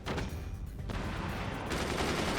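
Shotgun fire in the artillery game Forts: loud, close blasts in quick succession, with a brief lull before a fresh flurry of shots.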